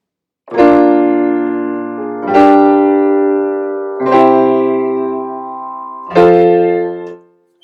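Four held keyboard chords in sequence, each ringing into the next with smooth connected voicing, close and clear with no speech.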